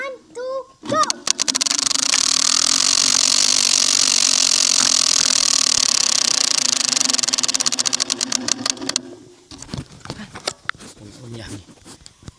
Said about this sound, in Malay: Kita letak mic dekat exhaust bagi orang dengar bunyi dia.